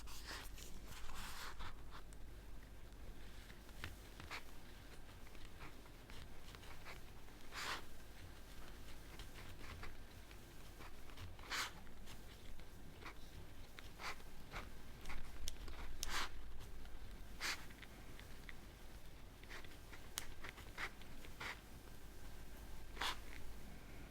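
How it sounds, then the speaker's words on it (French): Soft scratchy pen strokes of a small handwritten note in an ASMR scrapbooking setting, faint and close, with brief bursts of scribbling and gentle rustles spread over a quiet, steady background hum. "Je vais écrire une petite note."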